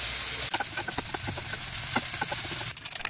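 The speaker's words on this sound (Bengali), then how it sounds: "সবজি সব ভাজা হয়ে গেলে সেদ্ধ করে রাখা শ্রেডেড চিকেনটাও ভেজে নিতে হবে।" Boiled shredded chicken frying in a pan with a little ground black pepper, giving a steady close sizzle and hiss broken by soft stirring scrapes and clicks, with no talk.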